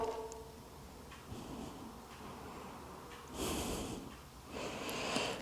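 Forceful breath pushed out during a rounded stretch in a hip and back exercise, quiet, close, airy rushes of exhalation in a couple of swells.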